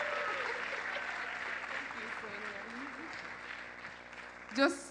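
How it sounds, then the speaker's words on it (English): An audience claps in a broad, fairly soft wash at a cultural festival event, with voices speaking faintly underneath and a brief louder burst near the end. "give a round of applause to Hope Azeda."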